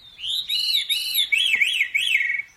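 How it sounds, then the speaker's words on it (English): A Veery thrush (Catharus fuscescens) sings clear, ringing whistled phrases, a few sliding notes followed by quicker up-and-down warbles, close and alone against a quiet background. "Today's featured feathered friend, Catharis fuscescens, the Veery."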